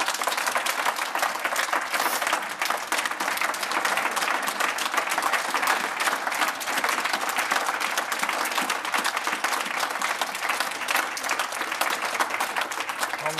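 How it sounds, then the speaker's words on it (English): At Murrayfield, a big crowd applauds the newly elected SNP leader with long, steady, loud clapping that fills the hall evenly throughout, with a faint murmur of voices underneath. "Taking the applause at Murrayfield"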